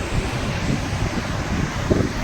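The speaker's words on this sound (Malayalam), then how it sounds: "നല്ല കാറ്റ്, നല്ല സുഖം" Steady wind buffets the microphone, a constant rushing rumble with small gusts and no voices.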